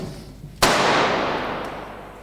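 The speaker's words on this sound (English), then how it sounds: "Later on in the day, the crew shoot Bond firing the gun at Renard as a separate close-up." A single gunshot on a James Bond film set for The World Is Not Enough, one sharp loud crack followed by a long reverberant decay in a large space, over steady background noise.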